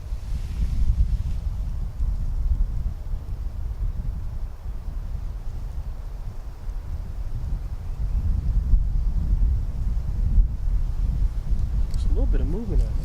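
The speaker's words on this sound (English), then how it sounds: "So windy today. I hope that wind doesn't bother y'all" Strong outdoor wind buffets the microphone in a steady low roar while a Craftsman spring-assist pocket knife is shown, with a few brief higher sounds near the end.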